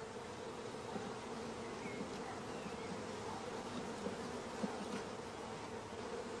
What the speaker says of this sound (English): All bees of each frame are brushed into a funnel over the swarm collecting box.